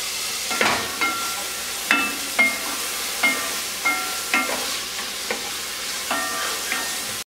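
Frozen spinach and black beans warm in a pan, sizzling steadily while a utensil scrapes and taps the pan in repeated, fairly regular strokes, close and clear with no talking.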